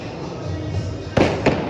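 Two sharp firecracker bangs burst from a neighbouring apartment, the second about a third of a second after the first, loud and close over a steady background murmur of voices.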